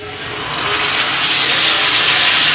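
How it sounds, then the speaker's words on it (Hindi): Ground masala paste dropped into hot oil for a shami kabab salan gravy, giving a loud, steady broadband hiss and sputter that swells in the first half second and holds strong throughout, with no talking. "तेल हमारा गर्म हो चुका है। अब इसमें हमने जो मसाला पीसा था वो मसाला डाल देंगे"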